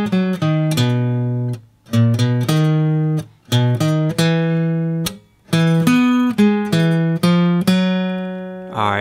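Guitar plays the opening three measures of a song, with plucked bass notes and short muted slaps in a bouncy rhythm, close and alone.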